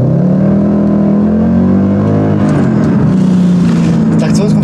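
A Mercedes C63 AMG W204 with a Stage 3 tune, IPE headers and Akrapovic exhaust accelerating, a loud deep engine drone rising in pitch as it pulls, heard from inside the car with a voice over it.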